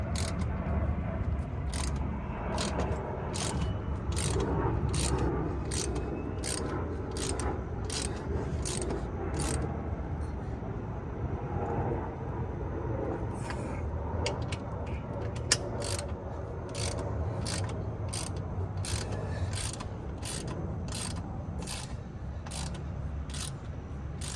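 A ratchet tightens the bolt on a wheel light of a Can-Am Ryker 900 Sport, crisp rapid clicks in repeated bursts over a steady background hum, close and clear.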